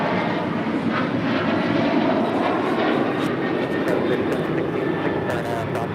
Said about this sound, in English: This is Delta Airlines 2382 taking off to Kansas City on a 737-800